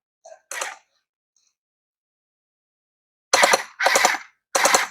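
Gel blasters fire gel balls nearby in short bursts: one brief burst early on, then three rapid buzzing volleys after a pause, with quiet in between.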